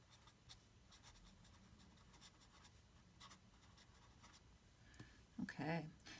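Aurora Optima fountain pen with a Goccia nib writing on paper, a faint steady scratch of nib strokes running softly throughout, ending in a short burst of louder handling noise.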